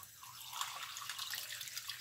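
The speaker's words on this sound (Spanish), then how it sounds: "Vamos a ponerle agua." Water runs steadily from a tap into a cooking pot for boniato and salt cod, a soft continuous splashing hiss without pauses or voices.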